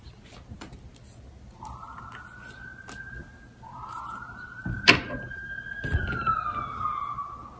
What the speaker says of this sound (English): sorry about the noise if you hear like on that ambulance outside